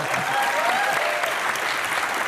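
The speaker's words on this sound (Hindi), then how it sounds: "अच्छा इसके ऊपर तालियां बजा रहे हो आप?" A studio audience at an Indian television comedy show claps in a steady, dense round of applause that holds at an even level throughout, with no talking over it.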